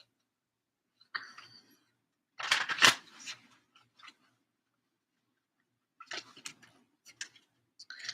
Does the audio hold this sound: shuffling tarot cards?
yes